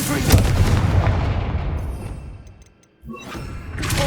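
A blasting spell explosion in the Hogwarts Legacy video game, a heavy booming blast that decays into a rumbling tail, falls to near silence, then a second burst hits.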